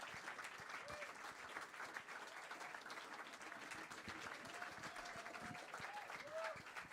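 An audience keeps up a round of applause for two performers at a live concert celebration, steady dense clapping throughout with faint voices and a few whoops mixed in.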